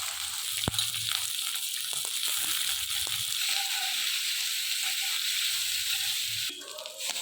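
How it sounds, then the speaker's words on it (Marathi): Onion frying in oil in a pan makes a steady, fairly loud sizzle throughout, with occasional stirring scrapes and a brief clink near the end. "आता त्या तेलामध्ये कांदा थोडा परतून घ्यायचा आहे."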